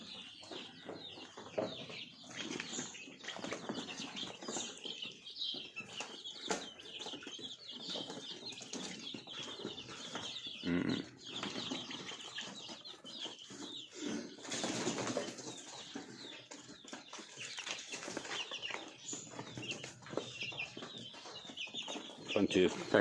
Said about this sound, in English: Plenty of pecking and chirping